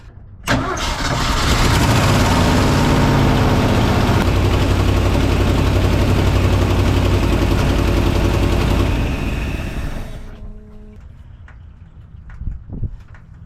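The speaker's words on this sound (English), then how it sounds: "We were running on 5 cylinders." A 1982 Ford F-150 pickup with a 302 engine running rough on five cylinders, cranking to life and roaring loudly and steadily for about ten seconds before shutting off, leaving faint clicks and ticks.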